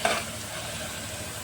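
Onion and green chilli frying in oil for mutton curry, a steady close sizzle with a brief stirring clatter at the start.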